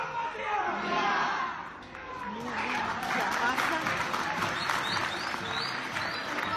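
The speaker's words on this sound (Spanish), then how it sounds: "desde acá también nuestro aplauso a ese profesor" Audience applause at a gathering honoring a rural school teacher, a broad wash of clapping and crowd noise that swells, dips briefly, then carries on steadily throughout.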